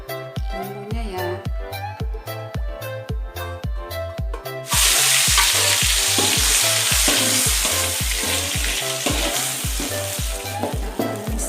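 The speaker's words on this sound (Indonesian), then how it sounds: "Kita tumis bumbunya ya." Spice paste sizzles loudly as it is sautéed in a pan for Medan-style mie gomak, with steady frying crackle, stirring scrapes, and a rhythmic music beat underneath.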